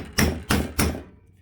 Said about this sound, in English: if it bends, just take your hammer. It's like an automotive hammer to get dents out.